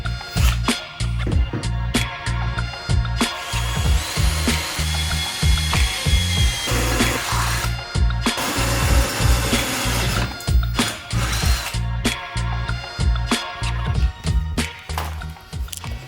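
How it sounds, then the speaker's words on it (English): A drill bores screw holes during an air-over-leaf suspension install on a Shoebox Ford, producing dense, rapid ratcheting clatter and rumble that run continuously and loudly throughout, with slight surges and dips. "So I think we're ready to do the screws, drill some holes."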